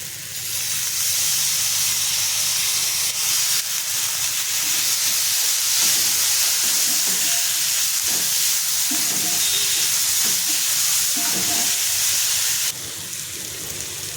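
Gaboli, a seasonal wild leafy vegetable, fries in a pan with onion-garlic masala and spices, giving a loud, continuous steamy hiss and sizzle with occasional stirring scrapes throughout.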